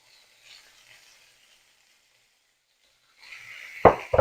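Onions browning in a pan alongside a pork chop: a faint, thin sizzle fades to near silence, then a loud frying hiss swells and a sharp clunk of pan or utensil lands near the end.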